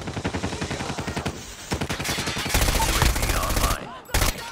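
Rapid automatic gunfire in the mobile shooter Call of Duty Mobile, bursts of evenly spaced shots in quick rhythm, close and punchy, broken by short pauses and a heavier blast near the end.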